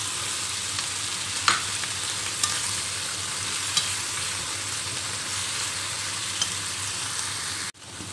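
Fish bagoong sizzles loudly in a hot pan with malunggay pods, a steady bright hiss punctuated by a few sharp clicks of stirring. No voices are heard.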